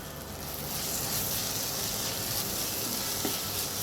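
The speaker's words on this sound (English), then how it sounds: "saute this really well for another minute just so that the raw smell of turmeric goes away and the turmeric cooks a little bit" Onions with a pinch of turmeric sauté in a pan for a dry potato bhaji, giving a steady, close, dense sizzle that holds evenly throughout with no voices.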